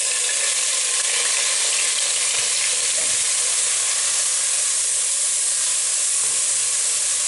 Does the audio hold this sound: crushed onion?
yes